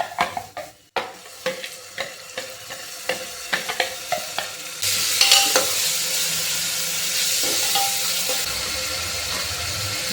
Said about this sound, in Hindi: और अब मैं डाल दूंगी इसमें ये टमाटर और हरी मिर्च का पेस्ट।